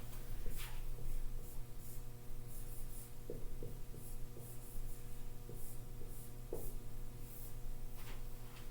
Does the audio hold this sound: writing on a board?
yes